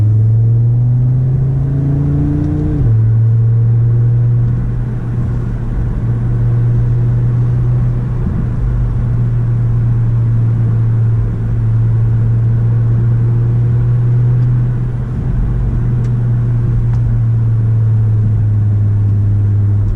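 An Audi RS3's five-cylinder engine drones loudly while driving, a deep steady hum with a gear change early on and slight swells in pitch as the car cruises and accelerates.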